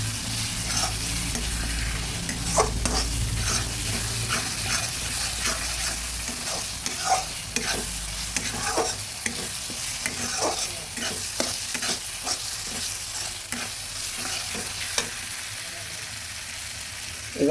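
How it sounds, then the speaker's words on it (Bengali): Spices for a papaya and country chicken curry stirred in a hot pan, a continuous sizzle of frying overlaid with repeated scraping strokes of the spoon, loud and close throughout. "একে একে সব মশলাগুলো দিয়ে দিলাম এবার ভালোভাবে নেড়ে দিচ্ছি"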